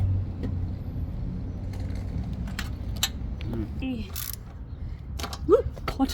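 A wrench works a nut on a Honda Grom rear brake with repeated ratcheting clicks and metallic creaks close by, over a low background rumble, while a person talks and grunts with the effort.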